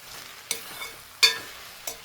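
Okra being stirred in a hot pan, with a spoon scraping through the sizzling vegetables in three distinct strokes over a soft, steady frying hiss, close up with no talking.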